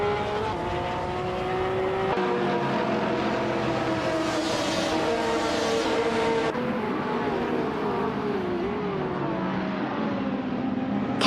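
Race cars in a racing video game, including a 2008 BMW Z4M Coupe G3, droning past in layered engine tones that rise and fall with gear changes, loud and continuous with no voices.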